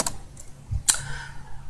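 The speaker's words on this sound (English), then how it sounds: "I'm typing inc and then Control J" A computer keyboard clatters with a few quick keystrokes during coding in the Vim editor, close and clear with no talking.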